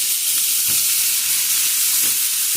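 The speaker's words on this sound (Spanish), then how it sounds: "Con como está muy caliente, voy a poner de una vez la cebolla" Chopped white onion sizzles loudly as it hits a very hot pot for a homemade chicken and vegetable soup, a steady close-up frying hiss with no talk.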